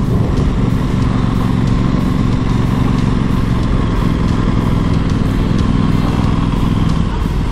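An Aprilia Tuono 660 motorcycle engine drones loudly and steadily while riding, a constant deep throttle hum with wind noise and no speech over it.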